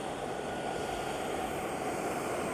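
A giant radio-controlled scale model T-38 Talon jet taxis, giving a steady, continuous turbine whine and rushing roar at moderate level with no breaks.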